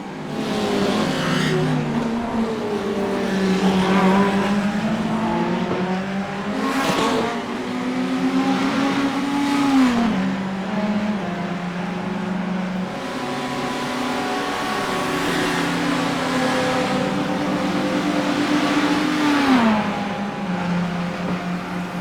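GT3 race car engines in a racing video game, a continuous loud engine drone that rises and falls as gears shift up and down, with revving climbs and several cars close together, and no talking.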